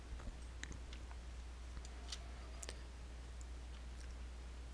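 Sparse computer mouse clicks, sharp and close, scattered irregularly over a steady low hum while masking a mesh in Sculptris, with no talking.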